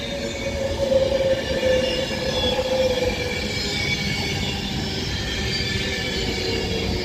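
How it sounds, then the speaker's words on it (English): An Avanti West Coast Class 390 Pendolino electric train runs steadily through Birmingham International station on the West Coast Main Line, a continuous close rumble with faint wheel squeal, unbroken for the whole stretch. "the 11:57 Avanti West Coast service to London Euston from Birmingham New Street with the Class 390 Pendolino"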